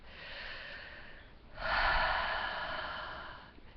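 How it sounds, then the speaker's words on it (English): A person slowly drawing one deep breath, a long, close, airy inhale alone with no talk. "Take a nice deep breath."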